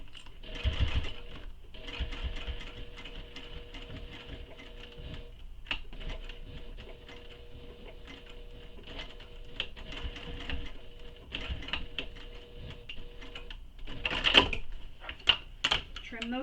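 A sewing machine top stitches a tote bag in long runs of rapid, even mechanical chatter broken by short pauses, close up, with a voice talking quietly at times.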